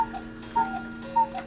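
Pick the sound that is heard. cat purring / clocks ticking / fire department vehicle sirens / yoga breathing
clocks ticking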